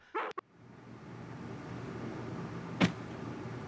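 Spots the dog in the game Harvester gives a couple of quick yelps at the start, then a single sharper bark later over a low steady background hum.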